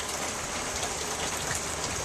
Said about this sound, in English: but we're having torrential rain right now